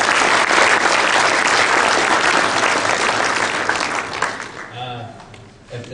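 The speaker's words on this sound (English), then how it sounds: "give them a round of applause for their" An audience applauds the judges at a 2015 discussion meet competition, a loud, sustained wash of clapping that fades near the end as a few voices begin talking.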